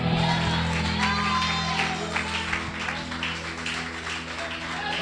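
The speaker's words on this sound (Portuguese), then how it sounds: "as palmas louvem ao Senhor" Church congregation clapping in praise at a worship service, a continuous patter of applause with scattered shouts over a sustained low hum of instruments.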